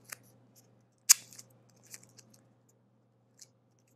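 Scissors snip athletic tape into two small strips during hip taping, giving a few crisp, close cuts with one sharp snip standing out amid light handling sounds.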